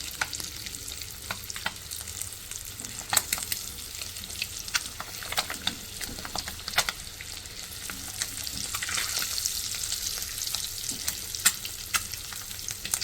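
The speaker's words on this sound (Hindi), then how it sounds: "हल्के हाथ से इसको थोड़ा सा फ्राई करेंगे मसाले में।" Egg curry masala with methi and eggs, seasoned with turmeric and red chili, fries gently in a pan with a steady broadband sizzle, punctuated by sharp stirring scrapes and taps throughout, no voices.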